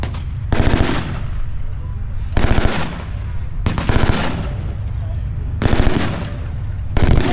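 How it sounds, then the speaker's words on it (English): A Panzer III medium tank fires on troops at a battle reenactment, with loud bursts of gunfire rattling out at roughly regular intervals, each followed by a brief echoing rumble. "Panzer III just fired at the troops."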